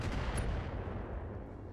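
Heavy weapons fire from enemy mechs in the BattleTech video game: a sustained rumbling barrage of booming shots that stays loud and dense throughout, with no talk over it.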